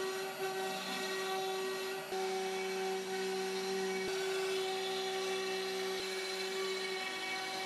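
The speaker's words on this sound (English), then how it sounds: "we're going to CNC some parts out of plywood" A CNC router cutting plywood hub parts for an omni-wheel bike, a steady loud machine whine with strong sustained tones and a few brief dips, running alone without talk.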